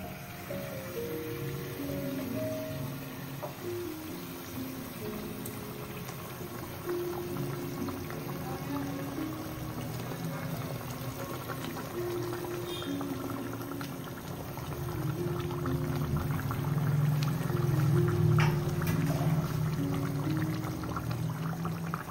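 Fish curry broth boiling in a pot on the stove, a steady bubbling simmer that runs continuously and grows louder and fuller toward the end, with no talking.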